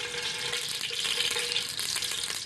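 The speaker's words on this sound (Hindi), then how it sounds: "ऑयल गर्म हो चुका है, इसमें प्याज चले जाएगा।" Onions frying in about a cup of hot oil in a pan for a cauliflower and meat curry, a dense steady sizzle with crackling pops throughout, close and fairly loud, no talking.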